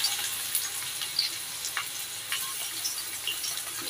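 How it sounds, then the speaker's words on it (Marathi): Onion, crushed garlic and ginger fry in hot oil in a kadhai for a kolambi masala curry, giving a moderate, steady sizzle with faint crackles and light stirring. "नंतर आपला कांदा टाकून घेऊया."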